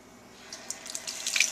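Tap water runs into a sink while a clam is rinsed, a soft steady splash that picks up with brief brighter spatters near the end, fairly quiet and with no talk.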